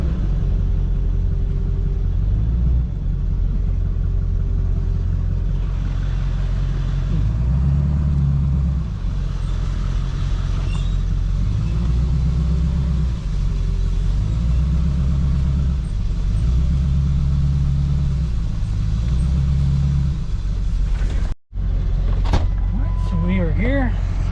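Car driving along on a long ride to a hunting lease, giving a steady low engine and road rumble throughout with a brief thump near the end.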